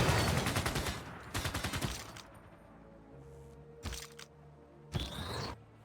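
Machine gun army firing in the video game Civilization VI, heard as several short, sharp bursts of rapid gunfire separated by quieter gaps with faint game sounds between them.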